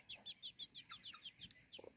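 A couple of young chicks peep in a quick run of high, bright chirps, close and fairly quiet, with a faint low cluck near the end.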